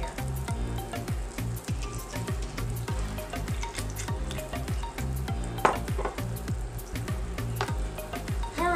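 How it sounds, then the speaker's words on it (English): Beef sizzles and crackles in hot oil, with a constant frying hiss and frequent stirring clatter from a utensil against the pan. "so let's fry it for a little bit."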